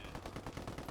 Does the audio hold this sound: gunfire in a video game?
yes